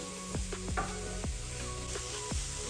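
Continuous sizzling of spices frying in a pan for bean soup, with a few clinking taps of a utensil against the pan, close up.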